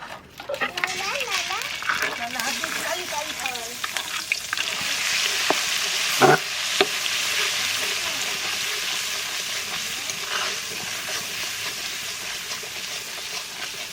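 Ginger-garlic paste and green chili paste hit lightly warmed ghee and sizzle steadily up close while a spoon scrapes and stirs, with someone speaking over the frying for mutton curry.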